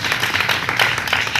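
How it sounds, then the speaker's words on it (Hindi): Audience at a Varanasi school event claps to welcome performers, a dense, steady patter of hands filling a short stretch with no talk. "एक बार जोरदार तालियों से उनका स्वागत कीजिए।"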